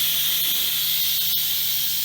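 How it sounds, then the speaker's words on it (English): An Instant Pot pressure cooker vents steam after cooking turkey necks, a loud, steady high hiss that holds without a break for a couple of seconds. "our turkey necks are already done, so we're going to release the steam"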